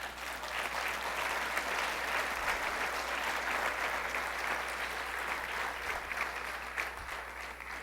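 A large church congregation claps steadily and continuously, a dense, even wash of applause lasting several seconds with no voices standing out.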